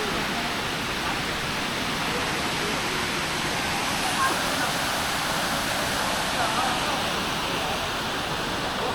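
Small waterfall flowing at an off-road spot in Vagamon, a constant rushing hiss that stays steady and fairly close throughout, with no voices.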